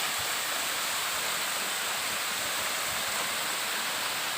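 Steady broadband rush of the Khun Huai Mae Wei (Mae Po Khi) waterfall in Thailand, a constant near roar of falling water with no break or voices.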